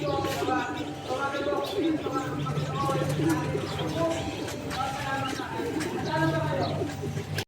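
Racing pigeons arrive at a loft during last-lap training, with repeated soft cooing and flutter-like bursts while someone speaks steadily throughout.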